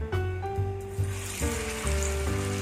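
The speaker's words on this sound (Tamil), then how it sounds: "நான் சன்ஃப்ளவர் ஆயில் ஊற்றுறேன் எண்ணெய் சூடாயிருச்சு ஒரு ஒரு மீனை அதில் வச்சிருவோம்" Fish sizzles as it goes into hot sunflower oil in a pan, a soft hissing crackle building in short surges, with steady tonal background music running beneath it.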